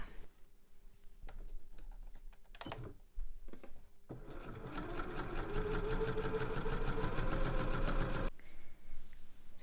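A sewing machine runs a steady chain stitch along a fabric Christmas stocking, starting with a few short bursts and handling noises before settling into a loud, continuous mechanical whirr for several seconds, then stopping abruptly.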